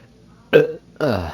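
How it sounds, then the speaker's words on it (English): A single close, loud burp from a young man, followed a moment later by a short voiced sound. "Sorry guys, I had a burp."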